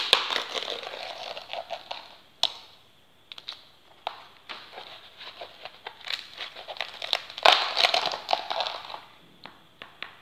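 Dry, papery luffa skin is peeled away from the sponge by hand, giving close, irregular bursts of crinkling, crackling and tearing with sharp snaps between quieter pauses.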